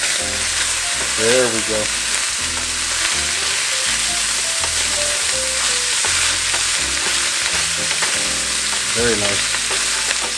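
Meat browning in a pan, a loud continuous sizzle heard up close, with someone briefly speaking over it and some background music underneath.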